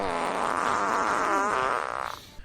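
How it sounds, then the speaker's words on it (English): A loud, drawn-out fart from a character in the horror film Amityville Frankenstein, a single close brassy blast lasting about two seconds before trailing off. "He rips a big stinky fart."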